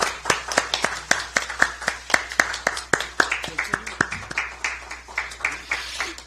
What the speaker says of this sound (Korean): 입혀주실 때 큰 박수 부탁드리겠습니다.